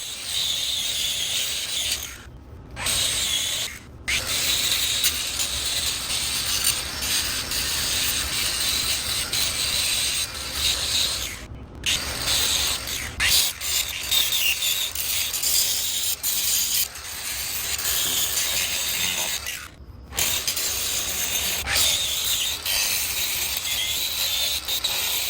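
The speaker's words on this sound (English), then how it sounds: "we switched back to the die grinder in this spot just so we can get closer into that corner" A die grinder works a concrete patch in a garage corner during renovation, a loud, continuous rough grinding and rasping that runs for the whole stretch, broken only by a few brief pauses, with no talking.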